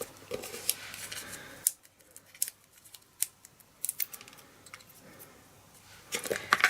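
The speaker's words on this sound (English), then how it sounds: "Then I need to fussy cut this." Scissors snipping around a paper craft piece, a series of close, crisp cuts at uneven intervals, some in quick clusters, against a quiet room.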